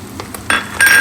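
A metal fork clinks and scrapes against a pot as noodles are stirred together with their spice mix, several short bright taps close by, the last ones louder.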